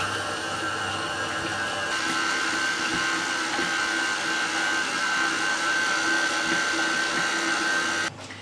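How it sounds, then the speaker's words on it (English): A stand mixer runs on low speed, kneading focaccia dough with a steady motor whine and a rhythmic churning drone that continues unbroken and fairly loud, with no talking. "Now we want to knead this dough on the mixer for on low speed for about 7 minutes."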